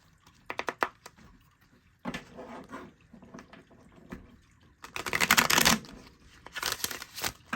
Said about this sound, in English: Okay, so we're going to shuffle a deck.